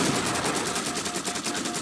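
Rapid gunfire in Halo 4 during co-op play rattles out as a dense burst of shots, loud and continuous, with no voices over it.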